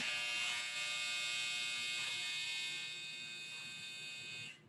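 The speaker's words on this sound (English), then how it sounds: "Sorry, that's my dryer." A clothes dryer's buzzer drones steadily for nearly five seconds, a loud, even electric buzz with a dense stack of tones that fades slightly toward the end and cuts off abruptly, heard alone with no talking.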